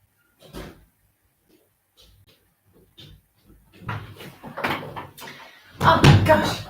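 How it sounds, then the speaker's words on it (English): A front door opening and closing in a home, heard as thuds and rattles amid someone talking, with a louder bang of the door near the end. "The front door went just as I was about to go live then."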